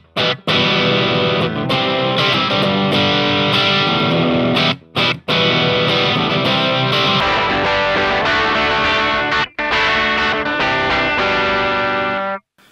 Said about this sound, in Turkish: Bakalım overdrive tonumuz nasıl?